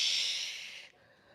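A loud, forceful breath pushed out through the mouth during a core workout, a single hissing exhalation that tapers off and cuts out abruptly.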